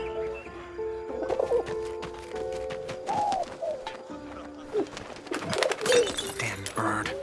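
Pigeon in the game 11-11: Memories Retold, soft cooing and fluttering calls scattered among game sounds, with voices talking over parts of it.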